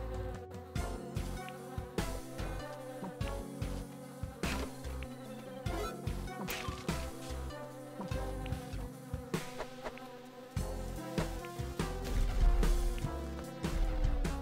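Swarm of bees buzzing in the video game Spelunky, a steady droning hum layered over busy, rhythmic game music and effects, with no talk.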